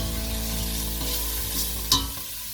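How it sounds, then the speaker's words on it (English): Onion and coriander frying in a pan for carrot and coriander soup sizzle steadily and close, with a few soft scraping stirs and a brief sharper clink near the end. "give that a stir"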